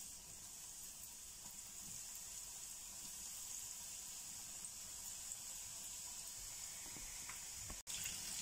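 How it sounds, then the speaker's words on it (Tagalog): Fish fingers frying in hot cooking oil, a steady quiet hiss and sizzle that runs unbroken throughout with no talking, cutting out briefly near the end. "At yan ang ipiniprito hanggang sa siya ay mag-golden brown"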